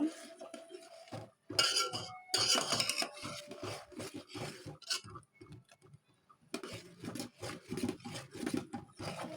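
A utensil stirs and clinks against a metal pot of herbal hair gel being cooked on the stove, with irregular scraping taps and short pauses between strokes, close and fairly quiet.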